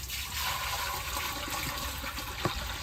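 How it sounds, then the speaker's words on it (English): Water dumped in one go into a YardMax 1.6 cubic foot compact portable concrete mixer, a close, continuous gushing rush with a small splash near the end. "So first I'm going to put in the water. I think I'll dump all of it."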